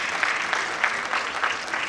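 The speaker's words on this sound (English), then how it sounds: "let's have a huge round of applause for them." Applause at an award ceremony as honorees come to the stage, a moderate wash of clapping with scattered louder claps, heard from some distance.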